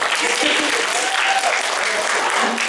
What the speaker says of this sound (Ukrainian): Максим, аплодисменты, ты классный.